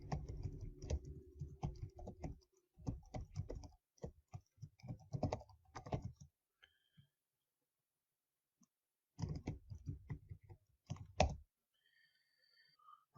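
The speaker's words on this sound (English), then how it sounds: "For that, I need to type in my user ID and password and get myself authenticated to" Fingers type a user ID and password on a computer keyboard to log into an Azure account: quick bursts of crisp key clicks broken by a few seconds of silence, fairly quiet and close, with no talking.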